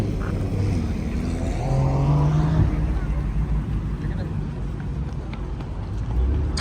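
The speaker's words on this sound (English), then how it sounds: "The SLR is leaving." A Mercedes SLR pulls away from a car meet, its engine rising in pitch as it accelerates off into the distance, with crowd chatter and nearby talk underneath.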